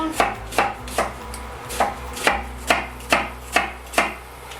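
A knife chops onions on a cutting board in about ten crisp, evenly spaced strikes, close and clear with no voices.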